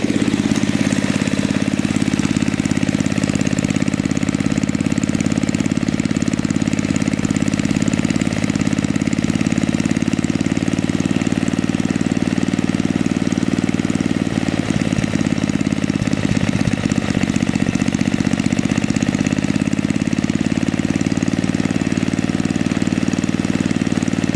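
A small snow blower engine runs steadily at idle during carburetor adjustment for a long stretch, loud and close, with a constant droning rumble and no voices.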